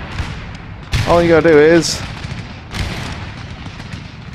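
Line infantry muskets fire in Empire Total War as a short, loud crackling volley that rises over battlefield noise, followed by a fainter second burst, while someone talks throughout.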